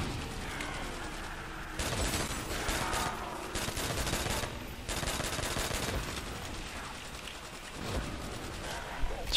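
Thin, rapid bursts of automatic gunfire crackle in a zombie shooter game, several sustained volleys with short pauses between them, fairly close and steady, with a voice talking underneath.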